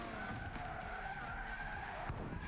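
A car in Gran Turismo 6 on PS3 brakes hard with a sustained tire skid and squeal over a droning engine, fairly close and continuous, faint in level.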